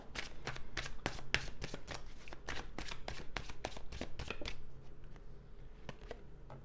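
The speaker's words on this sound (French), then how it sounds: "Je vais tirer les cartes du tarot pour savoir ce qu'il a à nous dire." Tarot cards are riffled and shuffled in a rapid run of crisp, close slaps and flutters, easing into a few sparse, quieter card flicks as cards are drawn.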